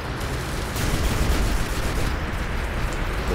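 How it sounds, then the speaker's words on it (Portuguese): Minigun fire in the War Robots game rattles as a dense, continuous burst of rapid shots, loud and unbroken throughout with a slight swell in the middle. "Vai tomar meus tiros, meus miniguns."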